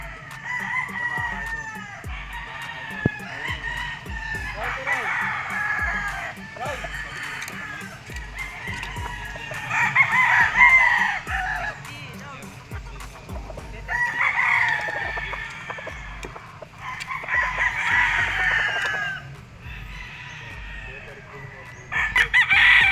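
Roosters crow repeatedly at a gamefarm, including Boston Black gamefowl, with several long crows rising and falling over scattered clucking and farmyard noise. Someone talks faintly now and then in the background.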